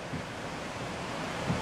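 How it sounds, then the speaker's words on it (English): Floodwater from Hurricane Irene rushing steadily through a flooded yard as an overflowing river, heard as a continuous broadband roar of moving water with wind noise on the microphone and no talk. "everything is basically just trickling down from the mountain, flowing into the river. The river then overflows."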